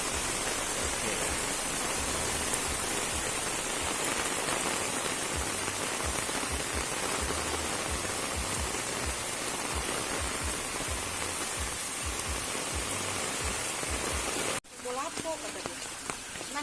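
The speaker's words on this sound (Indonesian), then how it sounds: "hujan saat ini pun sangat deras" Heavy rain pours down during flooding in the village of Alue Ie Mirah, a loud, dense, unbroken roar of rain on surfaces that cuts off abruptly near the end, leaving quieter background sound.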